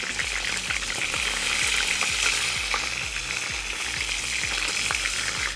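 Pork ribs frying over maximum heat in a kazan, a loud continuous sizzle with steady crackling and rhythmic scraping stirs throughout.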